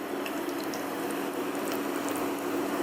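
Onions fry in a pan of oil with a steady, dense sizzle and bubbling hiss, loud and close, continuing unbroken throughout.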